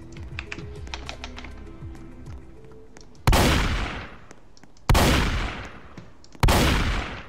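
Fireworks show in the Roblox game Strucid: three loud bursts, each a sharp blast fading into a crackling decay, spaced about two seconds apart, after a stretch of quieter clicking.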